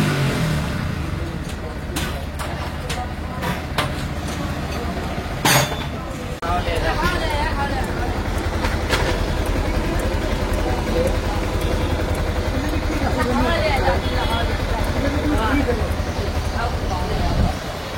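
A Yamaha R15 V4 motorcycle fresh from a service idles at a workshop, a steady low engine drone that rises after a few metallic clinks, while someone talks over it.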